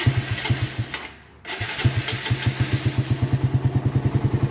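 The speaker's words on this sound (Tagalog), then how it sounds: "Kaya ngayon medyo tahimik na yung makina ni Paps." A motorcycle engine fitted with a newly installed 28mm Keihin carburetor idles steadily up close, with a rhythmic, even putter and a brief dropout partway through.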